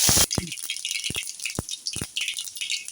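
Mustard seeds and a small onion drop into hot oil for a black chickpea sundal, with curry leaves and coriander: one loud sizzling burst, then a steady close crackle broken by sharp pops.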